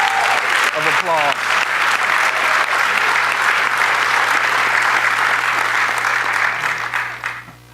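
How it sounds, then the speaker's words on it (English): Sustained audience applause fills a spring semester convocation at Cosumnes River College, a dense, loud wash of clapping lasting several seconds before tapering off at the end. "Give yourselves a round of applause."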